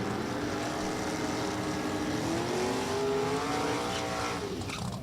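A Ford-powered Roadster and a Corvette launch down a Super Gas drag strip at National Trail Raceway, engines wailing and sweeping upward in a sustained, distant roar, with steady crowd and track ambience underneath.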